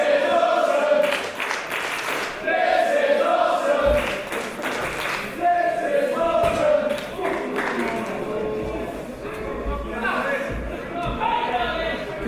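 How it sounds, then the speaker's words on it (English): Crowd at an independent wrestling show in a small venue applauding, steady clapping and cheering throughout, with a commentator talking over it. "quite well deserved applause there from the crowd here in Unit 9"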